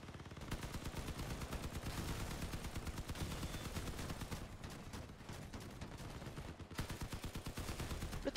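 A vehicle-mounted machine gun in Crossout rattles off sustained rapid fire, a dense rhythmic stream of shots with brief gaps, fairly faint overall.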